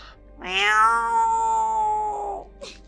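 A single drawn-out cat meow, loud and close, rising then sliding down over about two seconds, followed by a brief soft noise.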